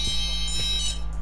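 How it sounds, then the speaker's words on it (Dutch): Repeated electronic beeping from an alarm clock goes off indoors over a steady low hum, fairly loud and continuous with faint pulses, during a FIFA 20 gaming session. "Ik weet niet waarom mijn wekker gaat"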